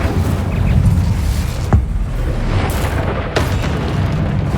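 Incendio fire spell cast in the video game Hogwarts Legacy, a loud whooshing burst with a couple of sharp booming hits over a roaring, rumbling background.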